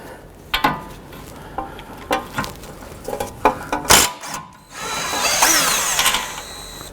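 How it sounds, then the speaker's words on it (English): A power tool turns a 19 mm socket on a tie rod end nut on a 2006–2011 Honda Civic, with sharp metallic clicks and clanks followed by a longer whirring run near the end, close by. "Using a 19 millimeter socket, we want to go ahead and remove that tie rod end nut"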